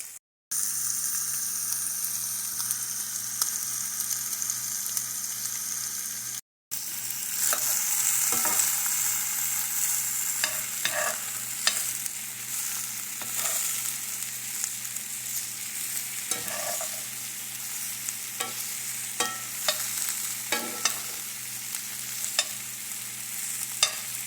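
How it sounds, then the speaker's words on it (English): Sausages sizzle and fry with cabbage in a pan, a continuous bright crackle broken by repeated scraping stirs of the utensil, close and steady throughout with a brief gap near the start. "the next thing I'm going to do is add the sausages."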